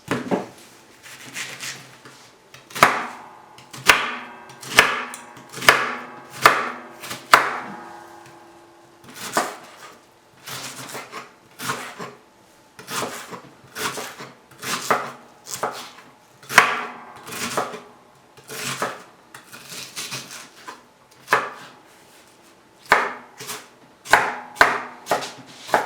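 Knife chopping onions on a cutting board while making Mexican rice, a steady run of sharp, close knocks in quick bursts with brief pauses between them.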